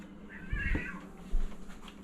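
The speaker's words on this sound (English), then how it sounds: "Oh, the cats are fighting outside." Cats fighting outdoors let out a strained yowl and growl, distant and moderately faint, with a short rustling thump afterward; no talking.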